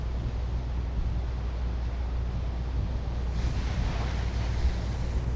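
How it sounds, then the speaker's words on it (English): Ocean waves rolling onto a Bali shore on a windy day, a steady broadband roar with wind buffeting the microphone and a slight surge of surf partway through, no voices. "those waves coming in look quite nice"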